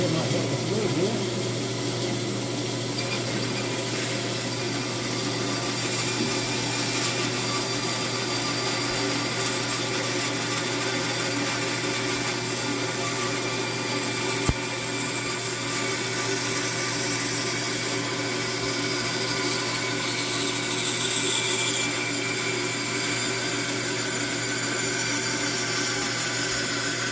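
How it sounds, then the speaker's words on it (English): A power tool grinds steadily through the wooden stock of a double barrel shotgun during a restoration, cutting away the bulk of the wood in one long, loud, continuous pass close by. "cut the biggest part of that wood off right there"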